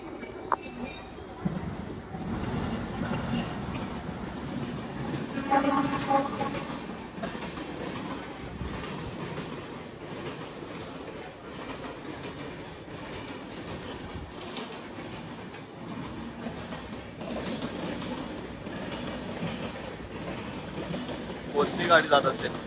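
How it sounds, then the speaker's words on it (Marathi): Passenger train running beneath a person boarding a rear coach, with steady rail rumble and clickety-clack along the whole stretch, a brief squeal near the end, and intermittent voices over it. "कोणती गाडी जात असेल?"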